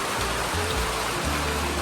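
Rain falling on a village house, steady hissing patter with drops dripping close by, continuous and moderately soft with no voices.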